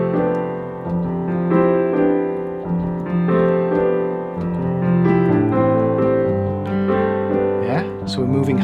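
Piano playing a flowing pattern with sustained chords and a left hand shifting halfway through each bar, steady and moderately loud with no talking.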